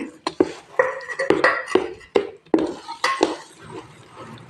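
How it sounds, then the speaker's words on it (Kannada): Rava paddu batter with chopped green chillies being stirred in a metal bowl, a spoon scraping and clinking against the sides in a series of close, uneven strokes, with no voices. "ಎಲ್ಲನೂ ಹಾಕೊಂಡಾದ್ಮೇಲೆ ಇದನ್ನು ಮಿಕ್ಸ್ ಮಾಡ್ಕೊಳ್ಳಿ"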